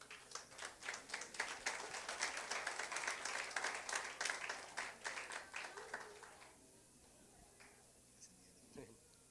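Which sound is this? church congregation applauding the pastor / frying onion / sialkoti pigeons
church congregation applauding the pastor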